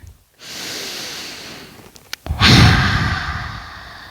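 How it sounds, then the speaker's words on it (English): Slow breathing while holding a yoga pose, with a long airy exhale, a short catch, then a deeper breath that fades out. "we're going to hold this for 3 breaths"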